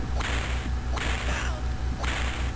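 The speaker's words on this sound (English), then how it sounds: "It's very important to get used to the whip real early." Repeated whip cracks from the Earthworm Jim video game on Sega CD, four sharp swishing snaps at a steady rhythm over a looping low game soundtrack.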